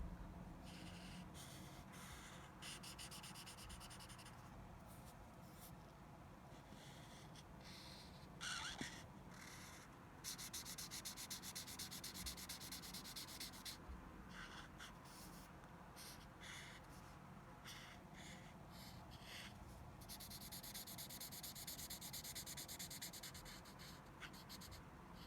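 Red crayon rubbing across paper as shapes are colored in, a continuous close scratchy scribbling with repeated back-and-forth strokes and brief pauses, heard alone without talk.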